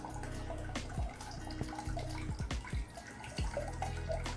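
Water from a small pump-fed fountain trickling over a chunk of lava rock, a gentle continuous splash and drip, close and quiet, with a few faint knocks in the background.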